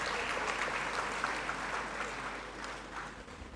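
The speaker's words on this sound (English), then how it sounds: "Another round of applause, please." An audience at a university congregation ceremony in a great hall claps for a dance troupe, a dense, even round of applause that tapers slightly at the end.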